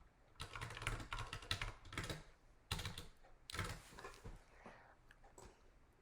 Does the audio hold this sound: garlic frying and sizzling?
no